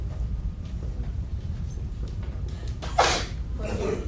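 A single short sneeze bursts out near the end over a quiet room background, followed by a faint breathy sound.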